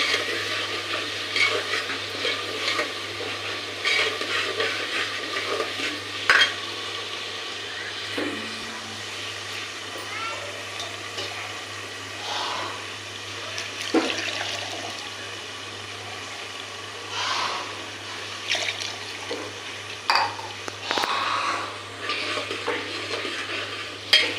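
Vegetables sizzle and crackle in a pan while being stirred, with intermittent scraping and clinks over a steady low hum, continuing throughout.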